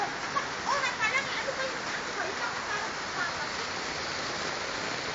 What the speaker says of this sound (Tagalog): Umuulan ng yelo.